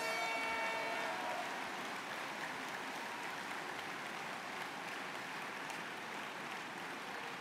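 Sustained crowd applause at a political rally at La Villette, a dense steady wash of clapping that runs the whole time, moderately distant and fairly even in level, with no voices rising above it.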